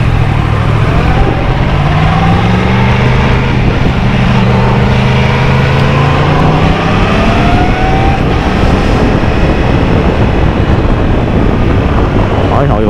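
A heavy motorcycle ridden on the road with a rider in a suit, its engine droning loud and steady, revs rising and falling through gear shifts under strong wind roar on the microphone.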